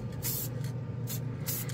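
Rust-Oleum Custom Spray 5 in 1 nozzle can sprayed at its low output setting onto a spoon, giving three short, close hissing bursts separated by brief pauses, fairly quiet overall.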